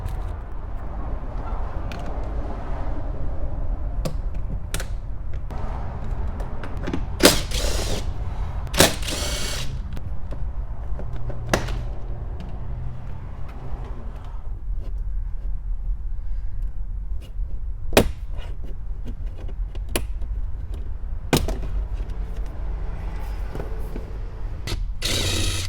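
Bolts are backed out and the A-pillar cover is pried loose inside a Ram truck cabin, with ratcheting clicks, mechanical rattles and several sharp snaps and clacks of trim over a steady low hum.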